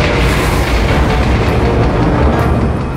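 A heavy, sustained explosion rumble from ships firing in a space audio drama, loud and dense throughout with a roaring low boom and no voices.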